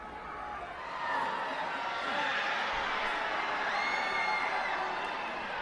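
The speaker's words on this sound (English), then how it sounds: "You hear all the kids cheering in the background?" Students cheering and whooping in the background as a marching band enters the field, a broad continuous crowd roar that swells after the first second and holds steady, with scattered shouts rising above it.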